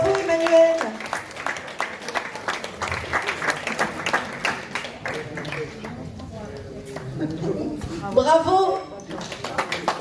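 An audience applauds a long-serving worker at a workplace medal ceremony, steady clapping filling the room for the full stretch, with a voice speaking over it and a brief cheer near the end.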